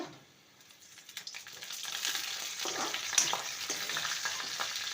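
Onions frying in hot oil until golden brown give a rising, steady crackling sizzle, close and continuous, with faint stirring sounds.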